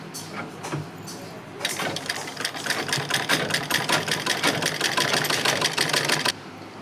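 A sewing machine stitches a lacha-style blouse, a rapid steady run of needle strokes from about 1.6 to 6.3 seconds after a few lighter clicks, close and fairly loud.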